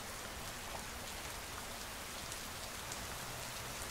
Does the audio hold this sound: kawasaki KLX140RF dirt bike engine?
no